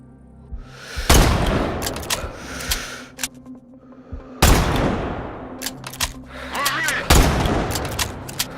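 Sniper rifle fire in Sniper Ghost Warrior 3: three loud, sharp shots spaced a few seconds apart, each trailing into a long echoing boom, with softer clicks and mechanical sounds between them.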